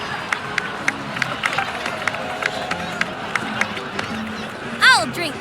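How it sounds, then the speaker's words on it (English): A crowd in the video game Genshin Impact applauds and cheers, with sharp claps in an uneven rhythm over a murmuring crowd and a brief whoosh near the end. "please give another round of applause for them"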